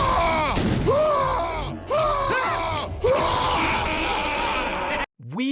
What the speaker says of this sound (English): Here, have a head that's always screaming.